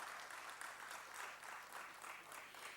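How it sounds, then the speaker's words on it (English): Parliamentary members applaud during a debate on higher education and training, a continuous wash of clapping heard at some distance and fairly quiet, holding steady for the few seconds. "I think the department deserves a round of applause in this regard"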